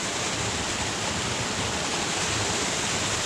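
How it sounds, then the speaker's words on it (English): Waterfall in a mountain hiking setting, a steady, loud, broadband rush of falling water that fills the whole moment without pause or variation, with no voices over it. "Another splash of waterfall."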